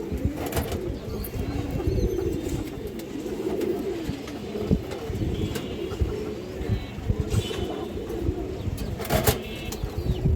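Many pigeons coo continuously at a farm that breeds high-flyer and colored pigeons, a dense, steady murmur with occasional wing flaps and brief sharper noises close by.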